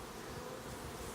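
Honey bees buzz around a hive in a quiet, continuous hum, faint and steady with no voices.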